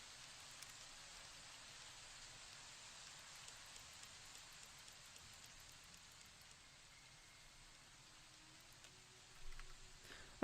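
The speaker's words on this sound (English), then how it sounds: "Oh, the weather effects are very loud." Rain weather effects in the game Fallout: New Vegas, a steady, loud hiss of falling rain throughout, with a brief louder rustle near the end.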